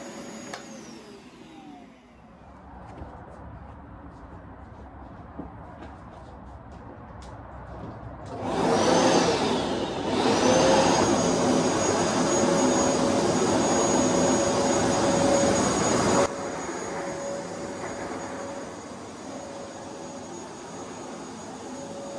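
Carpet cleaning machine running indoors, a rising whine and roaring suction that swells after a quieter start, holds steady at full volume, then drops back to a lower hum.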